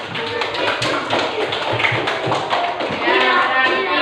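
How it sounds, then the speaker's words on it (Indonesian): A classroom of students applauding two classmates, a steady dense patter of many hands clapping for several seconds with faint voices mixed in. "Berikan aplaus untuk Sul dan Indah."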